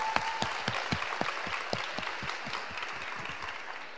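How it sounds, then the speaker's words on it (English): Steady audience applause fills a homecoming alumni ceremony hall after a student performance, dense claps running throughout at an even level with a few louder claps near the front. "Let us give us another round of applause"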